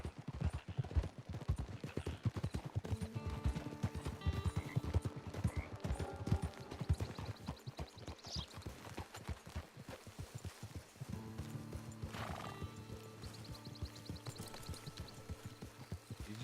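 Horse hooves clip-clop steadily in Red Dead Redemption 2 Online, a brisk rhythmic trot under a music score with an occasional whinny, the hoofbeats loudest early and fading into the background later.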